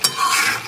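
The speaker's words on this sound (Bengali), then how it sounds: "ভালো করে নেড়ে চেড়ে মিশিয়ে নিচ্ছি।" Chilli chicken being stirred and mixed in a pan, a brief scrape and clink of the utensil at the start followed by a soft, steady sizzling hiss, close and alone.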